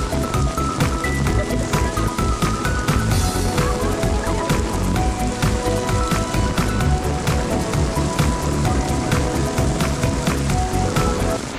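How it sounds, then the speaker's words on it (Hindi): Heavy rain pours down steadily on a Shanghai street, a dense, loud, unbroken hiss of drops hitting surfaces with no talk over it. "तो बारिश तेज़ हो गई है"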